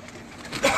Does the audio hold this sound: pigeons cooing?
yes